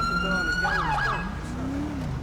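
A police siren in a video game wails with a rising and falling electronic tone, steady and fairly close, with no talking.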